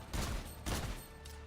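Two quick bursts of gunfire in Fortnite, each a short booming cluster of shots separated by a brief gap. Faint in level and heard alone without talk.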